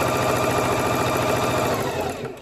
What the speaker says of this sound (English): I'm going to shift the fabric over and I'm going to sew.